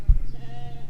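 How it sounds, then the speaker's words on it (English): A single short, low sheep bleat near the start, followed by quiet rumbling background. "Oh, sheep!"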